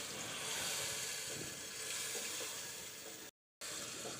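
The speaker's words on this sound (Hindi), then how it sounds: "मैंने आलू डालकर भी इसे कुछ देर फ्राई कर लिया है।" Potatoes fry in a spiced yogurt masala for Pakistani dahi aloo, giving a steady close sizzle and hiss that breaks off briefly near the end, with no talking.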